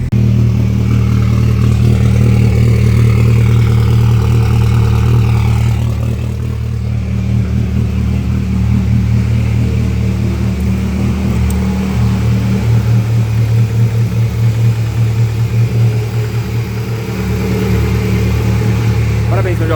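A Volkswagen Beetle fitted with a Subaru engine idles loudly after its first start, a deep, steady, slightly lumpy engine rumble that goes on without a break, with faint talk beneath it.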